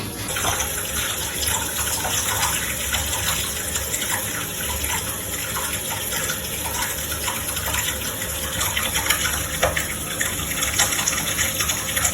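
Tap water running into a bathtub, a continuous, even gush and splash that stays steady and close for the whole stretch, with no voices.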